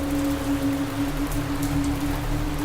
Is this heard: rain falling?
yes